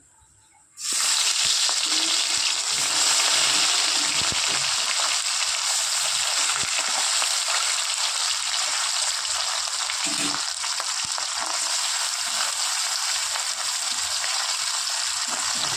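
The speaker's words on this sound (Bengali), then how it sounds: "ওই তেলেই বাদবাকি যে মাছগুলো আছে ভেজে নেব।" Leftover small bata fish frying in oil: after a second of quiet, a loud, continuous crackling sizzle starts and holds steady to the end.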